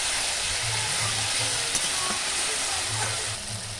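Turmeric powder and other ground spices frying together in oil for a soybean dish: dense, steady hissing sizzle with a few faint stirring knocks, close and even throughout.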